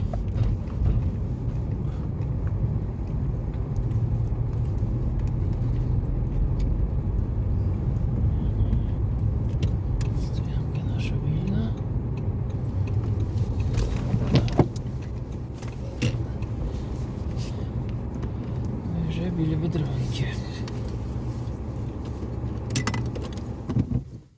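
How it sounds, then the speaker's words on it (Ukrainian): Busy street traffic with many cars rolls past in a steady low rumble, with a few brief knocks and clatters near the end and no clear talking. "Бачили, тому що вже машин багато є."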